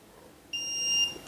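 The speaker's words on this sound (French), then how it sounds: "Est-ce que tu me les entends, les bips?" A workout interval timer sounds a sustained electronic beep that starts abruptly partway through and holds steady, fairly clear over a quiet background with no voices, during an at-home muscle-strengthening session.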